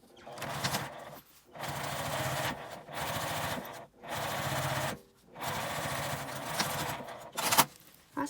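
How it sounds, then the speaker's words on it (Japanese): Domestic sewing machine topstitching along the edge of a fabric key case, running in several short bursts of steady whirring stitches separated by brief pauses, close and fairly quiet. "こちらも表側に端ミシンをかけます。"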